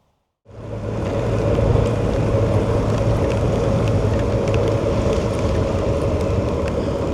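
A Suzuki GSX1400 motorcycle engine drones steadily at riding speed on a road, with heavy rushing wind noise over the microphone. The sound is loud, close and continuous.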